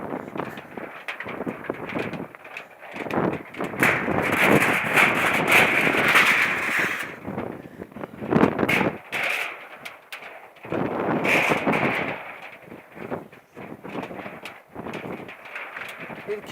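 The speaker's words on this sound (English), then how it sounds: "Oh, the wind is blowing." Strong outdoor wind at Khunkho comes in heavy gusts that buffet the microphone, rising and falling in surges with brief lulls between them. Voices are heard now and then.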